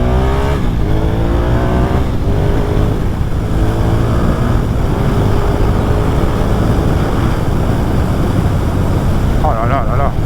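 A 1997 Suzuki TL1000S motorcycle roars through a final pass, its loud engine rising in pitch as it accelerates close by, with steady wind and road noise throughout and a rider's voice faintly audible.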